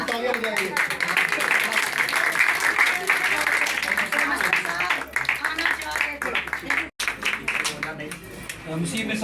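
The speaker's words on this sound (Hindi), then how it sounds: "तालियां बजाइए।" An audience at a Christian mission gathering for flood relief claps steadily for several seconds, with voices audible under the applause.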